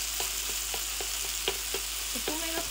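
Rice is stirred and fried in a pan, with a steady low sizzle under repeated spatula taps and scrapes at an even, quick pace, close and moderately quiet with no talk.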